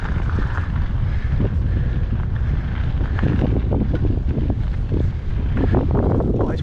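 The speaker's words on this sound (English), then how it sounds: "Oh, it's windy. It's bloody windy." Strong, constant wind roars into the microphone while a mountain bike is ridden outdoors, a loud low buffeting that never lets up.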